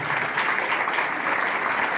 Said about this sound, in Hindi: साउंड का मतलब होता है कि आपकी जोरदार तालियां